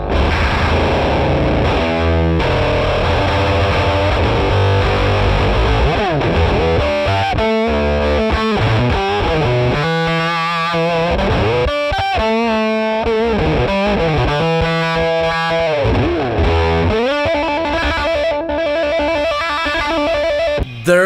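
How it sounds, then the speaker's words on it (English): Electric guitar run through a KHDK Unicord Blood II octave fuzz pedal, loud and continuous for the whole stretch, with thick distorted chords and notes, sliding pitch bends and choppy starts and stops, with a ring-modulator-like upper octave. "There's a lot of that like ring modulator sound when you dial the volume lower, right?"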